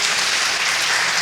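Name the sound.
congregation applauding in church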